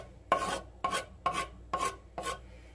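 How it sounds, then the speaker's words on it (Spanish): A spoon scrapes and stirs through crumbled cheese, chopped cilantro and onion in a bowl, five distinct rasping strokes in an even rhythm, close and alone. "esto lo vamos a revolver muy bien con una cuchara a que se integre bien todo"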